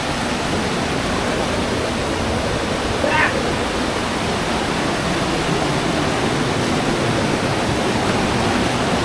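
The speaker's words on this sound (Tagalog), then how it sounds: "Lakas ng agos guys eh." Strong river current rushing near Ditumabo Mother Falls in San Luis, Aurora, a loud, steady roar of water close by with no break.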